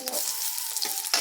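Brief sizzling of onions, green chillies and capsicum frying in oil, a close steady hiss with a couple of quick scraping stirs.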